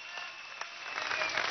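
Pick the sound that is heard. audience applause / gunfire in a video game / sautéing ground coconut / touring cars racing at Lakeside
audience applause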